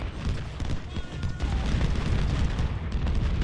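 Artillery fire in Ultimate General: Civil War, a dense rumbling wash of booming cannon and musketry blasts that rolls on continuously at moderate loudness without clear separate shots.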